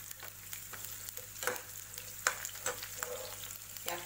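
Chopped green chillies and cubed onion frying in hot oil for a restaurant-style veg Manchurian gravy, a steady close sizzle with a few scraping stirs and light clinks, no talking.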